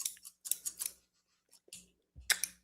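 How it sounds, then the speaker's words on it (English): Decorator shears snipping, heard as a few crisp, close cutting clicks in short bursts with brief pauses between, quiet and without talk. "If anybody ever needs like a good pair of all-purpose scissors to have around the house, I think these are called decorator shears."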